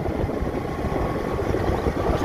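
A motorcycle engine runs at speed, a steady, loud, rough low drone with no breaks and no talking.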